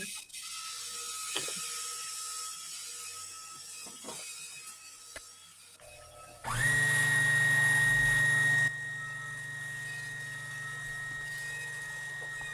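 A sewing machine winds a bobbin in one loud, steady motor whine that quickly rises in pitch and holds for about two seconds, then drops to quiet, after a few soft clicks and taps.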